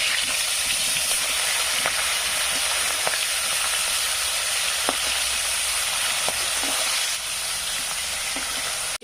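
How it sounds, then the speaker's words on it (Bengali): Fish frying in hot mustard oil with turmeric and salt gives a steady, bright sizzle and crackle that holds even throughout, with a few faint stirring clicks and no voices. "ভাজা হয়ে গেছে মাছটি নামাই নিয়ে"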